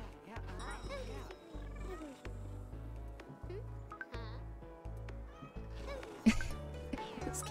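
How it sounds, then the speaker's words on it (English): A cat in the video game Cat Cafe Manager cries and meows repeatedly in plaintive, rising calls over a pulsing game soundtrack, with a sharper louder cry near the end. "This cat is just crying."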